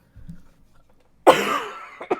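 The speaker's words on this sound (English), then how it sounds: "I'm going to be coughing a whole bunch tonight" A person gives a single hard, raspy cough followed by a short rough throat-clearing rasp, close and loud after a few faint mumbled sounds in an otherwise quiet room.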